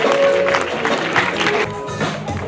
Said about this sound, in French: C'était le voyage au pays du son, on les applaudit